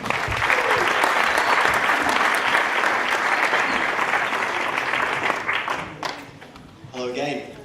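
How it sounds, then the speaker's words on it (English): Loud, sustained applause from a large crowd at a radio awards ceremony, steady clapping for several seconds before tapering off, with a voice rising briefly at the end. "Give a round of applause."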